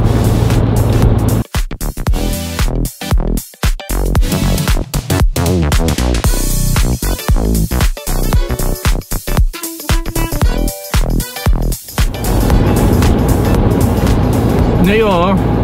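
A car rolls along a road with steady road and engine noise throughout, partly masked by people talking over it and a brief burst of louder sound in the middle.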